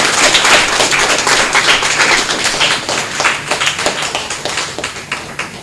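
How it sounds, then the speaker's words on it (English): An audience at a geography bee claps loudly in a dense burst of applause that gradually thins out into scattered claps toward the end. "Give them applause, everybody."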